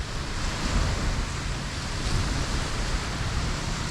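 Sea waves wash continuously onto a beach in Mindoro, a steady broad surf rumble with light wind and no voices.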